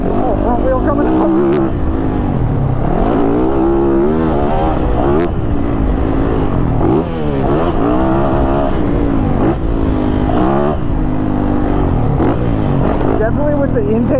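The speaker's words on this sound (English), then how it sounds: "with the intake up front, you can hear the intake sound on this thing" A 2022 Yamaha YZ450FX dirt bike ridden hard on a track, its engine and front-mounted intake roaring loud and close with constant revving and gear changes, while a rider talks over it.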